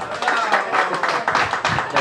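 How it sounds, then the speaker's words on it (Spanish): Applause for a guest at a wedding reception, a dense, steady wash of many hands clapping at once, fairly loud and continuous throughout, with murmur from the room mixed in. "David Mestanza, un fuerte aplauso para él, por favor."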